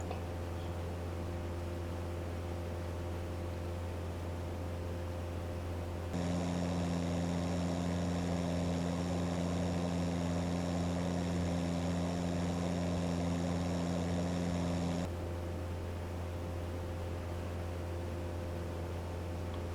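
An Airfoil Labs Cessna 172 NG Digital propeller engine drones in flight along the Grand Canyon VFR corridor, a steady humming tone that swells brighter and louder in the middle section before settling back.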